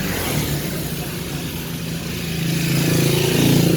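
Traffic rumbles along a main road with a continuous engine drone, and one vehicle grows steadily louder toward the end as it approaches or accelerates.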